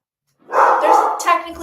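A dog barks indoors with the window shades down, a short burst of a couple of sharp barks that are close and fairly loud, with no talking over them.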